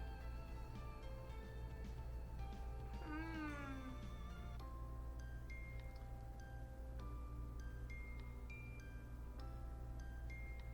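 A calico cat in the video game Purrfect Date gives one rising, wavering meow over steady background music. There is no talk.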